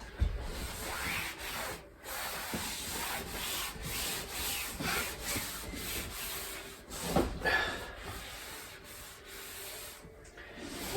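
A cloth rubbing excess polish off a narrowboat's surface, a continuous close scrubbing and rubbing with brief pauses between strokes and no talk.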